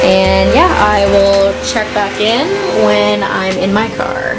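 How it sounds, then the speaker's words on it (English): A vacuum cleaner drones as a steady motor hum beneath a person talking close to the microphone, the whir staying constant throughout under the speech. "because I cannot deal with this vacuum right now"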